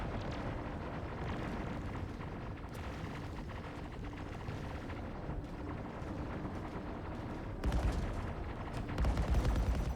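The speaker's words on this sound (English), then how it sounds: "who is shooting me back here?" Spaceship gunfire in Star Citizen, with a dense rumbling wash of shots and engine noise throughout and louder heavy bursts near the end, no talking.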